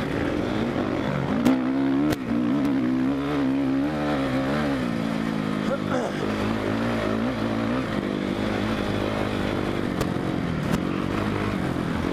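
A motocross dirt bike engine at a Deseret Peak track in Tooele, Utah, roars loud and close for the whole stretch, its pitch rising and falling as the rider works the throttle while riding, with no voices.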